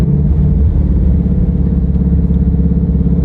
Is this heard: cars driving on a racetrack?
yes